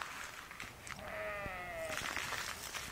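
A single drawn-out sheep bleat rises clearly on a grazing farm, lasting about a second amid rustling outdoor background noise.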